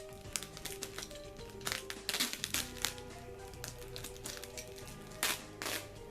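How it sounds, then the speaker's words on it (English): Packing tape is peeled off a cardboard box in a series of short, crackly rips and sticky crinkles, close and fairly quiet, coming in irregular bursts with brief pauses between pulls. "I'll just risk peeling the tape off."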